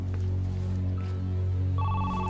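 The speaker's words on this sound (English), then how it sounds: "Answer the phone." A telephone rings in a hotel-room drama scene, a steady electronic ring with a sustained tone that changes pitch partway through, heard loud and close with no talk over it.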